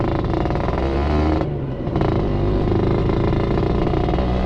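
A Suzuki Satria 120R motorcycle fitted with an aftermarket exhaust rides along, its engine holding a loud, steady drone with a brief dip in the middle before picking up again.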